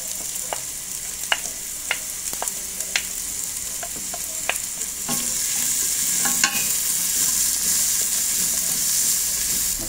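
Garlic fries in a pan for a Cusco-style stuffed rocoto, steady sizzling punctuated by repeated quick clicks and scrapes of stirring, growing louder partway through and continuing without speech.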